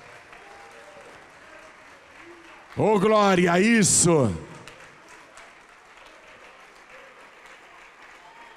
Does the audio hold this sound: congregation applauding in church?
yes